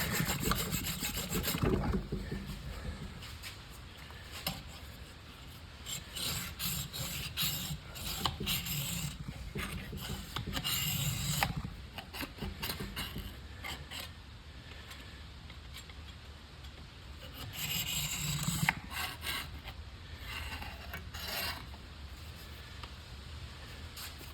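Continuous rasping saw strokes grind through a Japanese natural whetstone (Jnat Tomo), steady and close, with heavier, tougher passages as the cut nears its end.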